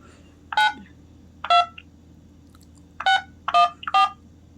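Telephone keypad DTMF tones punched in to enter a five-digit zip code on an automated pharmacy phone line, five crisp separate beeps at an uneven pace with quiet gaps between them.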